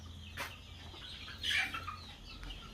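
Chickens and young chicks clucking and peeping inside a farm shed, a steady close murmur of fowl with a couple of sharper calls standing out, no talking.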